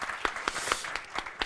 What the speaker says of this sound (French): On peut applaudir, hein,